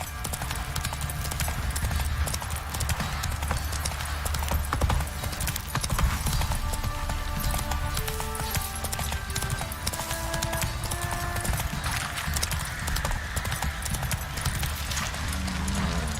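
Steady clip-clop of horse hooves walking at an even pace in The Witcher 3 video game, fairly quiet, over a soft ambient background with faint tonal music.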